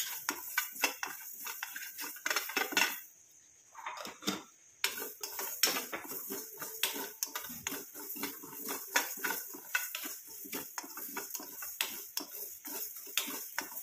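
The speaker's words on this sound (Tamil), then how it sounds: "இந்த கடுகும் கரிஞ்சீரகமும் ஒரே மாதிரி வறுபட்டு வரணும்." Mustard seeds and nigella seeds dry-roasting in a pan give a dense run of small crackles, pops and light scraping taps, close and continuous apart from a brief lull.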